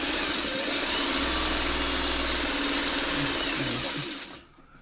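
A sewing machine stitches fabric strips with a steady, close, whirring motor hum and fine mechanical rattle for about four seconds, then stops abruptly.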